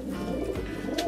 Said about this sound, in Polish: Super gołębie, trzeci pas. Przepiękne gołębie.